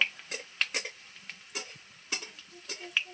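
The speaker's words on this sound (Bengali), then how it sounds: "আমি একদম হালকা আছে এগুলোকে ভেজে নিচ্ছি" Jackfruit seeds fry gently in moderately hot oil as a snack, giving a soft, low sizzle broken by a few sharp clicks and scrapes of stirring, heard close with no talking.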